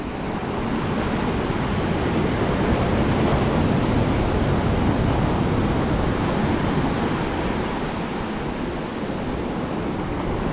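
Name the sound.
ocean waves, Punta Mita, Mexico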